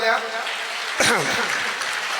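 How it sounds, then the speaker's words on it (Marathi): An audience of students in a Marathi-speaking gathering claps loudly and steadily over a voice that speaks at the start. "तर त्यांच्यासाठी पण एकदा जोरदार टाळ्या हो द्या."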